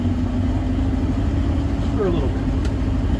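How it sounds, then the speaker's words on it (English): A 1924 Packard 143 Touring engine holds a steady fast idle as a low, even rumble close by, with someone talking briefly over it. "We're just going to give her a little bit faster idle."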